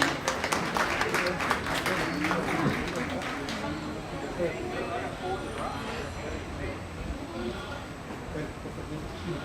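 Applause for exhibitors at a junior livestock show, scattered clapping from the crowd that starts fairly strong and soon thins into low crowd noise and a speaking voice.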